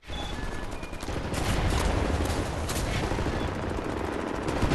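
Shotguns fire in rapid, overlapping blasts in the shooter game Wolfenstein: The New Order, a loud, continuous volley that builds and stays dense throughout with no talking.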